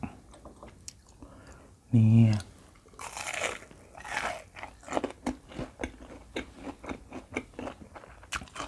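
Crunchy cheese balls are bitten and chewed close to the mic: one sharp bite, then a run of crisp, irregular crunches and softer mastication, with a short vocal sound partway through.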